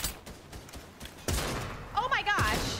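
Video game SMG fire comes as quick crackling bursts in a custom-game match, moderately loud, mixed with other game sounds, while a player talks excitedly over part of it.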